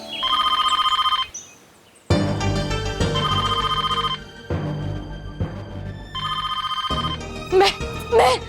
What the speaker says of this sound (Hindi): महर का फोन होगा, महर का फोन होगा।